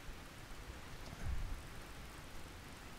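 Rain in the fishing game Russian Fishing 4 patters as a soft, steady hiss, with a brief low rumble in the middle, faint and without voices.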